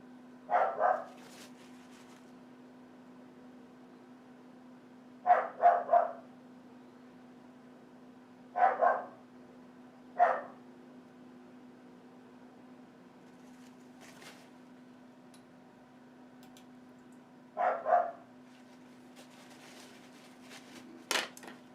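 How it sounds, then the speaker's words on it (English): A dog barks in short bursts of two or three yaps, repeated several times at a moderate distance over a steady low hum in an indoor painting studio. "Can you hear my dog?"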